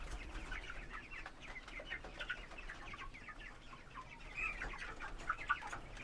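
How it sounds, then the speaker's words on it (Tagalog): A flock of chickens clucking and chattering continuously at feeding time, with occasional louder squawks over a low background rumble. "Bibigyan namin pakain naman ngayon yung mga manok."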